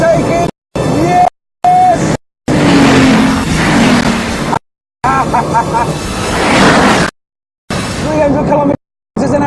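A Bugatti Veyron with around 1,000 horsepower races at high speed, its engine roaring loudly in choppy segments broken by abrupt silent gaps, with rising revs and a hint of tire noise as a voice talks over it.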